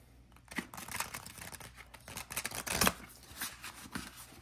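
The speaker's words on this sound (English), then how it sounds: "shuffling." A deck of cards riffled and shuffled several times in quick bursts, with crisp rustling and snapping, fairly close and moderately quiet, no talking.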